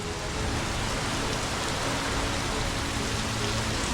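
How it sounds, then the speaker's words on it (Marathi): Heavy rain pours in a dense, steady hiss, loud and unbroken throughout with no voices. "खूप जोरात पाऊस आहे बघा."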